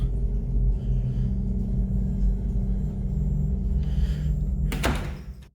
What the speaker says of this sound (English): The door rattles like something is furious on the other side